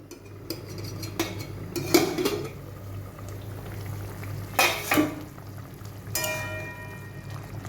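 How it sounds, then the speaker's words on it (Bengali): Metal lid lifted off a pot of simmering fish curry, metallic clanks and scrapes at a few points, the clearest a loud double clatter midway, over a low steady bubbling of the boiling liquid, no talking. "ঢাকনাটা এবার খুলছি।"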